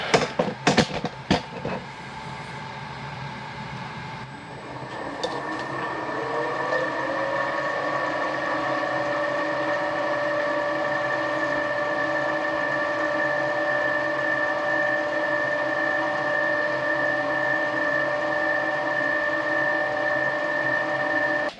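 A Millrite milling machine spindle spins up on a 30 Hz drive to about 1050 RPM. A few sharp clicks come first, then a steady whirring drone with a clear whine rises and holds, close and continuous.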